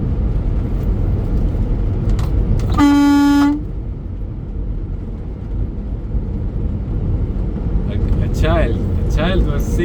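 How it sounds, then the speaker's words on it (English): A semi truck's horn gives one loud, steady honk of under a second while driving a narrow road, over constant road and engine rumble, with someone talking before and after. "A child was signaling me from the car to hit the horn, and I did that"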